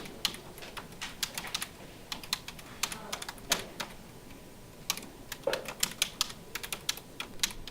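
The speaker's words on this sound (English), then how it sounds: "Let's type in our credentials." Login credentials being typed on a computer keyboard, a quick irregular run of close, crisp key clicks with short pauses between bursts, no voices.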